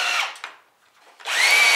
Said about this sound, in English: I'm going to use the hammer drill at first